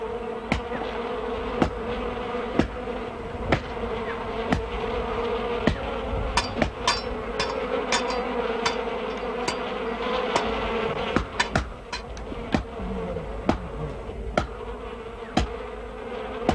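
Steady buzzing of many bees fills the clip, with sharp knocking strikes of chopping at a regular pace over the drone, as tambuti smoke is used on the wild bees.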